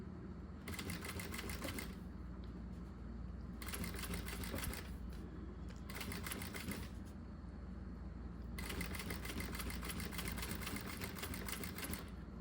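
A sewing machine stitches piping slowly onto a zippered pouch, running in several separate bursts of close, rapid needle clatter, with short quieter pauses between the runs and no talk over the stitching.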